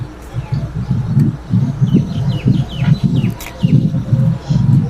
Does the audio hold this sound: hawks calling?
yes